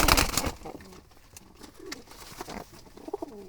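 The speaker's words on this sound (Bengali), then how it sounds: "এখানে কালো জালালি বুনো কবুতরের 2টা বেবি হয়েছে।" Black wild jalali pigeons cooing close by in a loft with young birds, soft low coos repeating irregularly over faint rustling and background noise.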